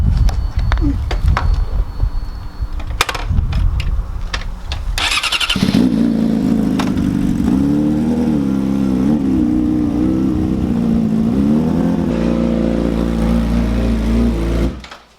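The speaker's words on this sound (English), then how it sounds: "do a burning out wheelie going down the street" A motorcycle revs hard and holds a loud, droning engine roar for several seconds during a burnout wheelie down a street, after brief shouting and clatter at the start.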